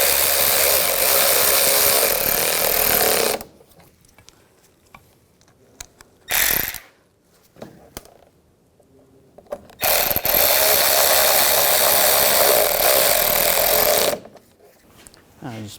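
A screw is run back into a 2014-2018 GMC Sierra 1500 parking assist sensor bezel under the bumper by a power tool, giving two long loud whirring bursts with quiet gaps and a short burst between them.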